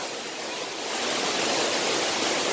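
Water rushes loudly and continuously inside a rock cave in the north of France, a dense roaring wash that swells slightly and fills the space with no voices.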